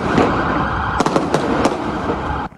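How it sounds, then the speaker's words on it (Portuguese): Several sharp cracks of gunfire ring out in quick succession over a loud, continuous siren wail during a police chase. "São ouvidos disparos."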